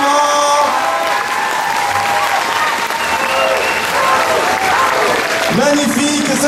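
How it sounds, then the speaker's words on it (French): Audience at a cosplay competition finale applauds loudly and steadily throughout, a dense sustained clapping with crowd noise and an amplified voice speaking over it. "je vous demande de rapplaudir tout le monde énormément"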